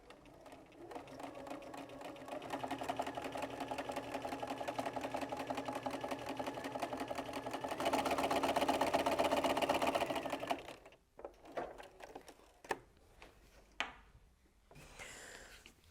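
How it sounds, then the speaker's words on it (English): A sewing machine stitches through four layers of fabric in a fast, steady run of needle strokes lasting about ten seconds, then stops, leaving faint handling clicks and rustles close by. "So I'm just going to do that, and then I'm going to come back over and pin it."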